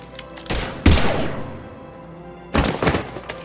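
Gunfire in the video game Mass Effect 3 crashes out in loud bursts, first a short volley and a heavy thumping blast, then another rattling salvo after a brief lull, all close and without talk.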